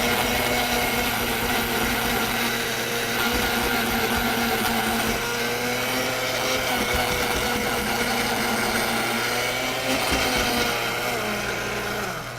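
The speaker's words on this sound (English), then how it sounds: "You're using that blender like I would use a food processor." A kitchen blender grinding quick oats runs steadily at high speed for the whole stretch, a loud continuous whirring motor drone with a faint voice underneath.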